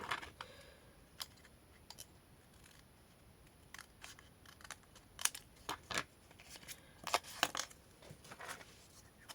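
Scissors snip through paper and card during a scrapbooking box project, a scatter of sharp, dry clicks and short cuts at close range, irregularly spaced over a faint background.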